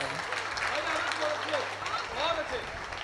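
Audience applause at a Hindi poetry recital, a sustained wash of crowd clapping with a voice speaking over it.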